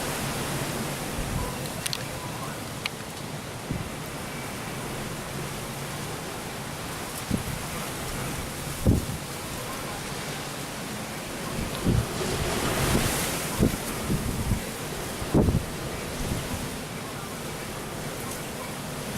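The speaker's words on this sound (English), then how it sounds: "Wind's coming out of the north." A strong north wind storm in Cal-Nev-Ari, Nevada, roaring steadily as broadband rushing noise with gusts and microphone buffeting, plus occasional thumps as it swells and eases.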